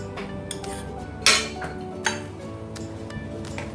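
A spoon stirs taro and coconut milk dessert in a cooking pot on the stove, giving a few light metallic clinks against the pot, two of them sharper, over a low steady background.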